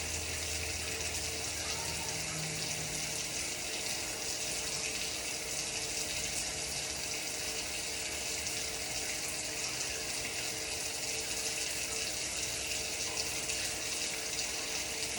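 Water running steadily from a tap while hands are wetted for a surgical scrub in a veterinary setting, a constant close hiss and splash with no voices.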